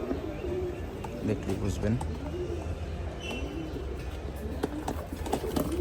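Pigeons cooing in a loft, low repeated coos under steady background noise while someone talks nearby.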